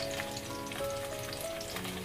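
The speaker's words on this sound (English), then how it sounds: "put them in, skin down, into the hot oil" Steady, gentle frying sizzle of salmon cooking skin down in hot oil in a pan, a continuous crackling hiss with a faint hum underneath and no talking.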